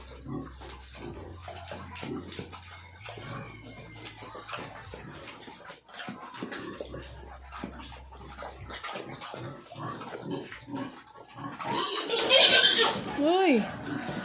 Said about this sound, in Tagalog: Are you eating? How are you, Piggy?